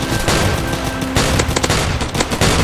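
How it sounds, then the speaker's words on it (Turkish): Loud bombs thrown by a boss in a Roblox zombie game go off in rapid, overlapping blasts and crackling bursts, dense and continuous throughout. "Şey bomba bu. Bomba atıyor."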